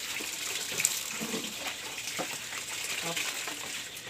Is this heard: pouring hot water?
yes